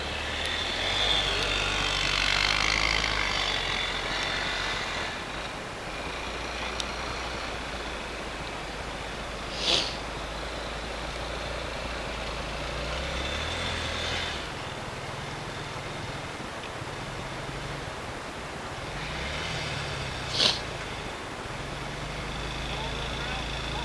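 A Suzuki ATV with a wheel close to coming off rides through snow, its engine a steady low drone under broad rushing noise, with a couple of brief sharp bursts and faint voices.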